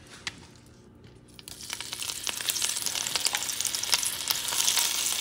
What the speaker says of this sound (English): cook some of this meat